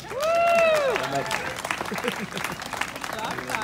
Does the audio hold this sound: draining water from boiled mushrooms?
no